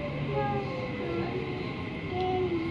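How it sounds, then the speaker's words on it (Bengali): Mumbai Metro train riding along, a steady rumble of the carriage with faint tonal whines, continuous and fairly close, with some background voices. "ডোডোর ফার্স্ট মেট্রো, মুম্বাই মেট্রো।"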